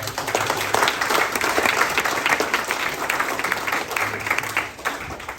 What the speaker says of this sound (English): Big round of applause to your parents.